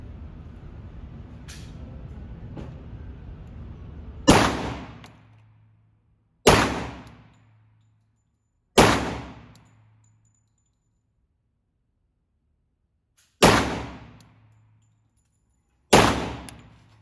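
A 10mm pistol fires five loud, sharp shots at a range, spaced a few seconds apart with short decaying echoes. Before the shots, quiet background noise and a couple of faint clicks are audible, and no talking is heard.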